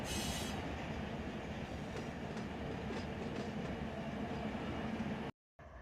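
A freight train rolls steadily in Run 8 Train Simulator III, with a dense, continuous rumble of wheels and faint squeals, cut off abruptly near the end by a short silence.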